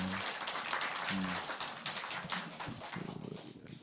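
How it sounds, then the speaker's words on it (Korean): A church congregation breaks into applause to welcome newcomers to the worship service, a dense, steady clatter of many hands close by, with a voice briefly rising over the clapping. "예배 오셨으니까 예, 우리 박수로 한번 환영해 주시면 좋겠습니다"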